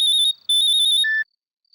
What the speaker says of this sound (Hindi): इतनी रात को किसका फोन आया?